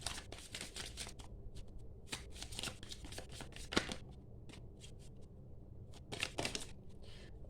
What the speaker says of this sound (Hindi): Got my cards. Let's see. Let me shuffle once.